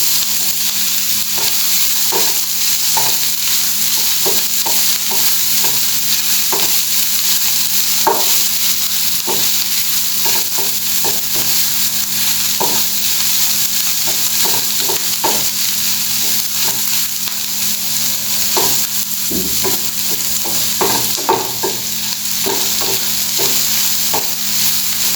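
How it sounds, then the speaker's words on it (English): Croquette filling sautéing in a pan, a Goan beef croquette snack: continuous loud sizzling and frying hiss with repeated scraping stirs throughout. "And we will saute it for a minute."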